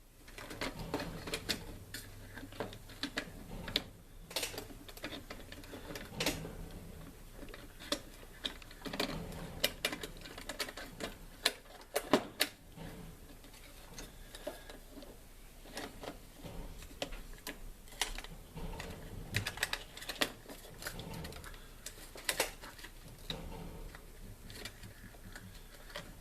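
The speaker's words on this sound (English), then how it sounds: "So he's rattling his food bowl." A pet bird rattles its food bowl nearby during an electronics repair session on a Heathkit IM-18 VTVM, giving irregular clicking, ticking knocks that come in scattered bursts with no talking.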